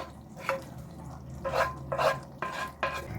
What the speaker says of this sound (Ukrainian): Переливаю сирну засмажку.